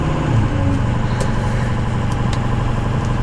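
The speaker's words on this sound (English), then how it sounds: "this is the rig. Driving down the road" A diesel pickup rig driving down the road, its steady low engine drone and road rumble filling the cab at constant loudness with no pauses.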